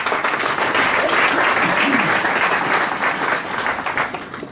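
Church congregation applauding and cheering in praise, a dense sustained wash of clapping that fills the space throughout, loud and steady with voices mixed in the crowd noise.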